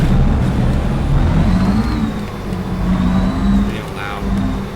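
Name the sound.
truck engine in American Truck Simulator video game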